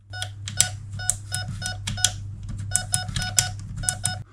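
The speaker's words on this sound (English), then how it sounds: "we can now hear it's beeping between each mode" A T238 DTU V2 EXP Bluetooth mosfet gives short, bright electronic beeps as it switches between safe, semi and auto modes, about a dozen crisp chirps in irregular clusters over a low steady hum, close by with no talk.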